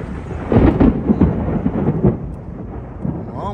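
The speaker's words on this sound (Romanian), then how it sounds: "deci o dă pe tunet" Rolling thunder at night in Miami, a loud, close rumble with several cracking swells early on, fading into a lower grumble.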